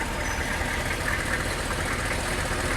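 A steady, low bus engine idle rumbles continuously with a faint knocking texture at Cades Cove, constant in level throughout and with no voices.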